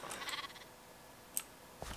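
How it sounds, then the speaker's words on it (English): A baby sheep bleats in the Minecraft mod TerraFirmaCraft, giving a couple of faint, short bleats early on, followed by quiet stretches and a few soft clicks. "We have a baby sheep who is trying to grow."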